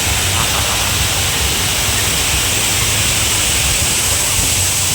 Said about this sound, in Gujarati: તમને આ ફુવારાનો અવાજ પણ સંભળાતો હશે.